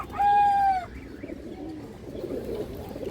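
A single high-quality male pigeon gives one clear, loud, drawn-out call, followed by softer low murmuring and rustling in a quiet loft.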